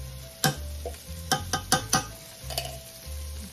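A manual food processor dices onions with a series of sharp chopping clacks in a quick, uneven rhythm, close and fairly loud, over a steady low background hum.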